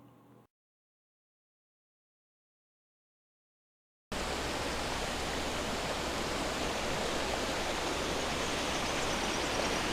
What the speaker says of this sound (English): This is the neat little creek that you pass as you go up to the Robbers Cave.